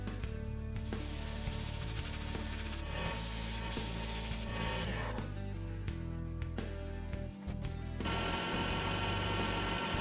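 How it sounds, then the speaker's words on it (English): A coarse file rasps across a brass fitting while making a homemade woodworking awl, with repeated rough strokes close to the microphone over a steady background hum. "So what I'm using here is a really coarse file, and I'm just going to keep filing that until it's nice and smooth"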